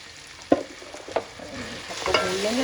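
Ground spices such as coriander powder and turmeric frying in a pan, with a few sharp scraping stirs and a soft steady sizzle rising toward the end, close and clear with no talking.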